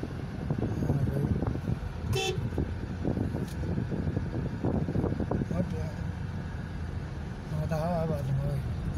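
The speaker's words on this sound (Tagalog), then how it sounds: "Busina." Car horns toot in busy traffic near a tunnel, a few short honks sounding over engine rumble and road noise while people talk inside the car.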